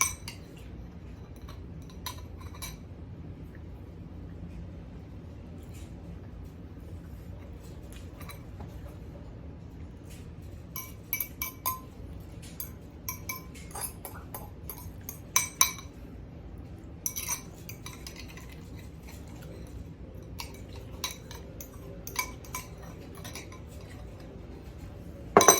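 A fork clinks and scrapes against an egg roll bowl while someone eats, with sparse light taps that grow busier and louder toward the end over a quiet room.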